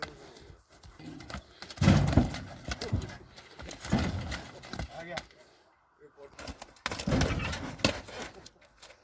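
A strong horse in a village in Özgön, Kyrgyzstan, heard in bursts of hoof thuds, snorting and movement with gaps between, amid outdoor rustle, with a voice faint in the background.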